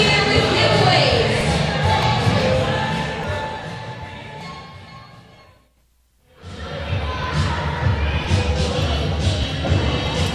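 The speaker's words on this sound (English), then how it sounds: "The crowd is filing out," Murmuring wrestling-show crowd filing out after the event, a broad wash of chatter and shuffling that fades briefly to near silence before the noise returns.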